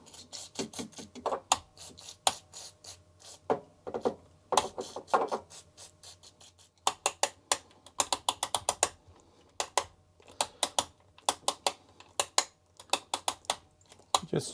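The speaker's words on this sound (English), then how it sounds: "I'm gonna try to clean up some of the switches here, if it's possible, with some contact cleaner" Switches on an old lab power supply are worked back and forth during cleaning with contact cleaner, giving irregular bursts of quiet, rapid clicks and rattles with pauses between.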